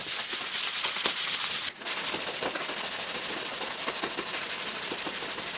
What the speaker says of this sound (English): And then a final hand sanding with very fine grit.